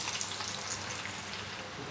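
Hot tempering of nigella seeds and green chili poured over rui fish, giving a brief, even sizzle that holds steady throughout.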